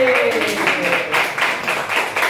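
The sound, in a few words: children clapping hands in class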